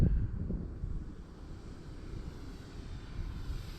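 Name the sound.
E-flite Clipped Wing Cub RC plane low flyby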